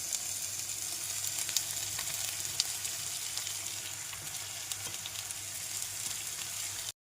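Long strips of cut chapati frying in a hot pan, giving a dense, continuous hissing sizzle that holds steady and close throughout before cutting off abruptly.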